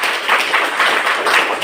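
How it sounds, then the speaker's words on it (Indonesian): Classroom of sixth-grade children in Indonesia clapping together in a brief, uneven burst of applause, fairly close and loud. "iya, beri tepuk tangan untuk kita semua"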